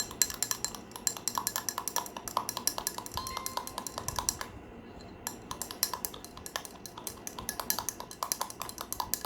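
Rapid rhythmic clinking of a spoon or whisk stirring a peptide drink powder in a glass or cup, sharp repeated taps continuing throughout with a brief pause near the middle, close and clear.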